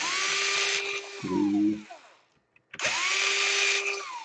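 Power screwdriver backing out heatsink screws on an Asus G46 laptop: two loud sustained whirring runs with a pitch that dips as each screw loosens, separated by a brief quiet gap and a short low buzz, with a few spoken words over it.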